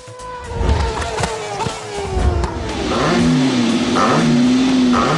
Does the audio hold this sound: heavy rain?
no